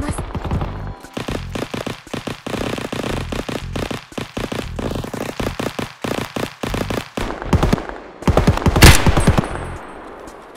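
An SKS rifle sniping from a prone position in Escape from Tarkov, a string of sharp, closely spaced shots with near, loud cracks and brief gaps between them.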